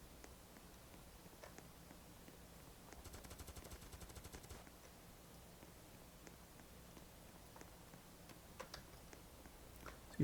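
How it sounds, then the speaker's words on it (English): Rapid burst of gunfire from the Roblox game Blood Moon Tycoon, a quick rattling string of shots lasting over a second, faint and distant against a low background hum. "Is he shooting at me?"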